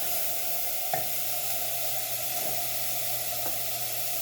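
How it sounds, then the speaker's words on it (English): Steady, even sizzling hiss from a pan of meatball sauce being deglazed, with a couple of soft clinks of a utensil against the pan, close and continuous with no talking. "Just deglazing that a little bit."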